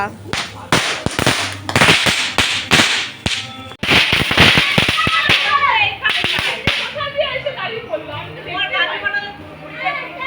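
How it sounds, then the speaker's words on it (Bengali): Firecrackers burst at a home gathering where candles are being lit, a rapid string of loud, sharp cracks and pops crowding the first several seconds, then thinning out while children and adults chatter and call out nearby. "সবাই মিলে বাজি ফাটাচ্ছে"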